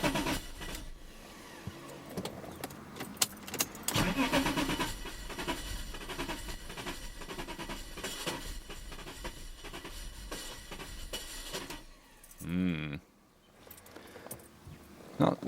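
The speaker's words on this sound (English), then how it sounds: "Firing. It's going to be flooded to buggery because of those injectors though." A car engine with faulty, flooded injectors and fouled plugs sputtering close by, running rough and uneven on a few cylinders with irregular coughs and bangs, then cutting out near the end.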